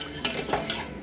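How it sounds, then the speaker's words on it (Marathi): A spoon scrapes and swirls through buttermilk kadhi in a pot, a few soft stirring strokes over a low background hiss from the stove. "आणि असं एक सारखं हलवं थायला एक उकळी येऊ द्या"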